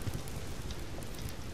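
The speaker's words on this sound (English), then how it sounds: "It started raining again." Steady rain falls in the survival video game Subsistence, a soft continuous patter of drops at moderate distance with no talk.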